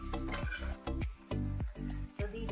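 Mutton cooked without oil is stirred in a pot as water goes in, giving a steady sizzle broken by rhythmic scraping strokes of a spoon, close and fairly quiet.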